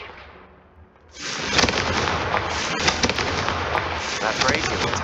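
A fiery Confringo spell blast in Hogwarts Legacy erupts suddenly after a quiet start, a loud broadband burst of crackling explosive noise that sustains with sharp pops and crackles throughout.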